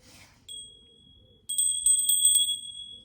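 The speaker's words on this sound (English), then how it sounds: "I'm just going to ring my bell" A small hand bell rings clearly, with a first bright strike followed by a burst of repeated jingling rings. The sound is close and loud over a quiet room, with no talking.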